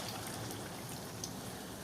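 Drumstick flower pakoras fry in hot oil with a steady, faint, rain-like crackle and hiss that continues throughout.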